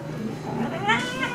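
A cat meows during a bath, a short rising and falling cry followed by a second, higher wail, close and fairly loud with no one speaking.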